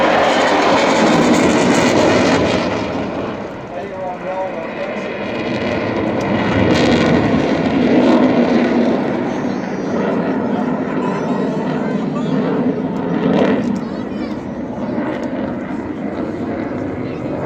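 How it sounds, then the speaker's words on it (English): A loud, continuous roar of jet engines on full afterburner at an air show fills the whole stretch, steady and rumbling with slight swells, with faint voices buried underneath. "Watches the engines hit the full afterburner."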